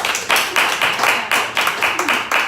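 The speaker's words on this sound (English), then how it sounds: "I think a round of applause" A small group gives a round of applause, with loud, close clapping in a regular pulsing rhythm of distinct bursts, as if a few people are clapping in unison.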